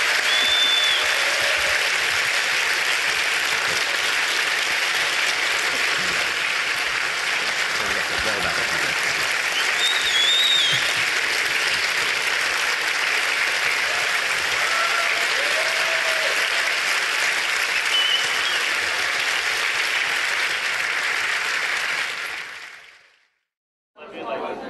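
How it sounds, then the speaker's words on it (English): A large audience applauds steadily and loudly for Professor Richard Dawkins and Dr. Neil deGrasse Tyson at a science talk, the clapping sustained for over twenty seconds before cutting off abruptly. "Please, another round of applause for Professor Dawkins and Dr."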